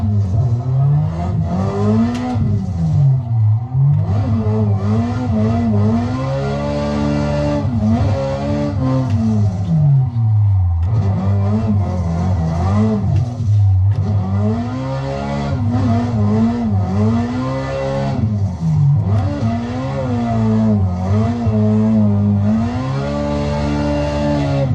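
A Toyota GT86 is driven in the Assetto Corsa racing game, its engine loud and close as it revs up and down in repeated sweeping climbs and drops through the gears, with no voices.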